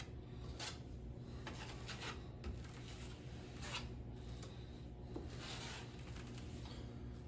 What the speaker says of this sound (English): Just applying it with my 6-inch knife.